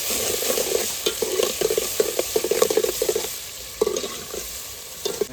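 Onion hits hot oil for a tempering in an outdoor cooking setup, crackling and sizzling close by while a ladle stirs and scrapes the pan in quick, uneven bursts.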